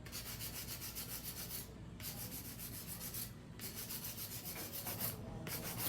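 Acrylic nails being hand filed: a close, rhythmic rasping rub in long strokes, broken by three short pauses, steady and fairly quiet with no talk.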